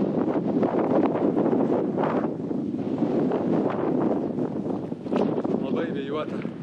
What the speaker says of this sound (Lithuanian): Labai stipriai vėjuota.